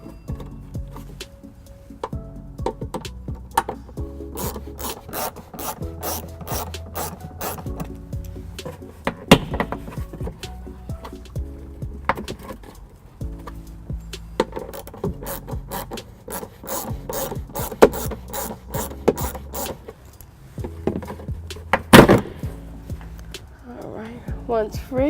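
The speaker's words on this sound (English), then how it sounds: "For me to remove these 2, I'll need an extension and a 12 millimeter socket." Ratchet with an extension and a 12 mm socket working plastic bolts loose under a 2014 Toyota Highlander during a trailer hitch install, in repeated rapid clicking bursts up close, with rubbing and scraping between them.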